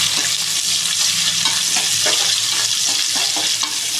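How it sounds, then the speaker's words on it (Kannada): Onions for chicken biryani fry in a pan with a loud, close, unbroken crackling sizzle and faint stirring throughout. "ಈರುಳ್ಳಿ ಚೆನ್ನಾಗಿ ಫ್ರೈ ಹಾಕ್ಬೇಕು ಇವಾಗ"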